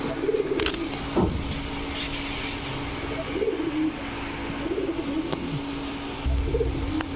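Neela Saharanpuri pigeons coo in soft, repeated low phrases every few seconds, fairly close, over a steady background hum with occasional thumps and traffic noise.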